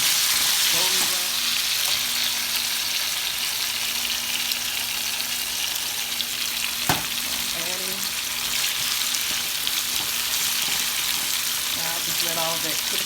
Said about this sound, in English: So now I'm cooking my smothered turnips. Just smother these down, get them nice and golden brown.